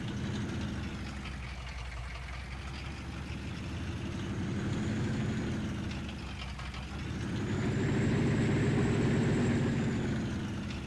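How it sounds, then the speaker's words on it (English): Cars driving past in the Farming Simulator 19 video game, a steady engine drone under a truck's idle that swells and fades as vehicles pass, with no talking. "We'll let these cars pass by."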